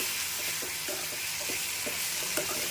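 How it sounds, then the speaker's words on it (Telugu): Onion and tomato pieces frying in a pan for a homestyle tomato curry, a steady bright sizzle with light stirring taps and scrapes scattered throughout, close and with no talking. "ఇప్పుడు ఒక 2 మినిట్స్ పాటు టమోటా పీసెస్ అన్నీ కూడా మెత్తగా అయ్యే వరకు కూడా మనము కుక్ చేసుకుందామండి"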